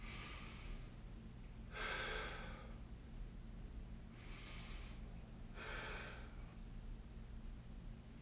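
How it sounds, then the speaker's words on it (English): Slow, deep breaths taken during a hip and leg mobility stretch: three distinct airy inhales or exhales, spaced a couple of seconds apart, close and fairly quiet over a low steady background hum. "Take a deep breath in."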